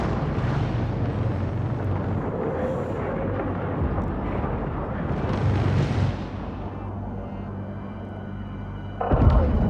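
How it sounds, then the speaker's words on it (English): A frigate blows up during a space battle in Homeworld 3, a sustained roaring explosion rumble with crackling debris, easing after several seconds before a fresh loud burst at the end. "Frigate destroyed."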